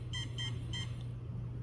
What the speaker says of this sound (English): every time you hear this little beep